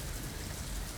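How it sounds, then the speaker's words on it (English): Rain falls steadily on a gray, overcast morning, a dense, even patter of drops that fills the space with no talking and no gaps. "It's a rainy day."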